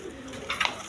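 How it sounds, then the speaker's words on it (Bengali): A light-coloured, large racer pigeon at a farm gives a brief low coo amid noisy, rustling surroundings, with a short sharper flutter near the end. "এখানে এক পেয়ার রেশার কবুতর আছে লাইট কালারের মধ্যে"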